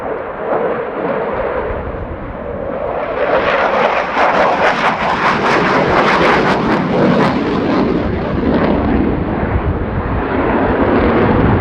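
A Swedish Air Force SAAB Gripen fighter jet performs at the RIAT 2019 air show, its engine roar swelling into a loud, continuous, rumbling blast that stays strong throughout, with no talk.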